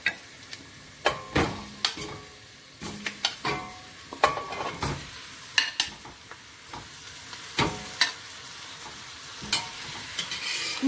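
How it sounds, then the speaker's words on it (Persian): Meat sautéing with onions and turmeric in a pan for a Kashan-style dish, with a soft constant sizzle broken by sharp, irregular scrapes and clacks of stirring, close and without talk. "گوشتم کمی با پیاز تفت میدم، فقط در حد تفت که اون رنگ گوشت به اصطلاح عوض بشه"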